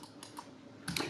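Several quick, faint clicks of computer keyboard keys being pressed, a few separate taps close together, with the last pair slightly louder.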